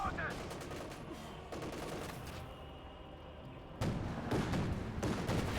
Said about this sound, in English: Flak panzer there ripping through them.